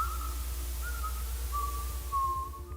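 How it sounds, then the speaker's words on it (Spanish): A thin, wavering whistle drifts in from a window in a horror short, coming in several drawn-out phrases over a low, steady hum. "escucha un silbido en la ventana."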